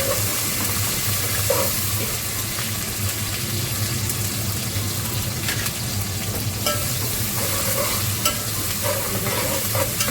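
Garlic and ginger fry in a pan with vegetable pulao preparation, giving a steady close sizzle broken by repeated scraping stirs throughout, with no talking.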